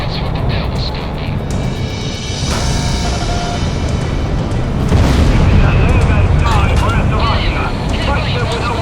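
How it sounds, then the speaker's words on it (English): Missile launch and explosion in the Ace Combat 6 flight combat game, a sustained roaring rumble with a heavy boom swelling around the midpoint over continuous jet engine noise, loud and dense throughout. "Launching missile."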